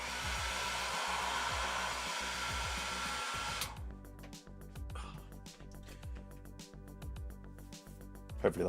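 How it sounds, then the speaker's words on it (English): A hair dryer roars loudly up close for a few seconds, then switches off, leaving rustling and soft bumping movements. "Just blasted my my hairdryer up my shirt for a second, just to warm up."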